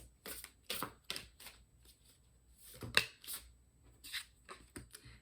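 Tarot cards are shuffled by hand in a series of quick, crisp riffling bursts with short pauses between them, close and fairly quiet, with no talking.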